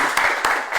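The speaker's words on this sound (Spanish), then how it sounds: "lo que tenemos que hacer es un aplauso de agradecimiento" Brief burst of audience applause in thanks at a Researchers' Day event, a dense, steady wash of many hands clapping with no talk over it.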